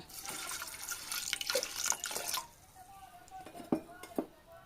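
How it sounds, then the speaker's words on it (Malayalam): Water poured into a pressure cooker holding lentils and curry leaves for sambar, a quiet splashing pour with metallic clinks, followed by fainter drips and a couple of sharp knocks. "നമുക്ക് പാകത്തിന് വെള്ളവും ഒഴിച്ച് കൊടുക്കാം."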